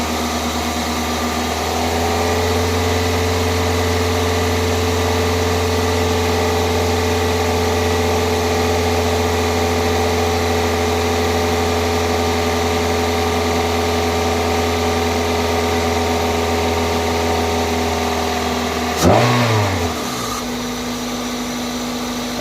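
A car engine idles steadily and loudly after fresh coil packs, spark plugs and a cold air intake, holding a smooth even drone with a brief clunk near the end.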